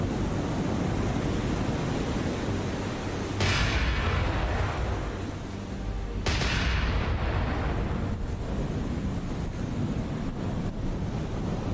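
Naval guns in the War On The Sea video game fire in two heavy booming blasts that each decay over a few seconds, set against constant roaring wind and sea noise.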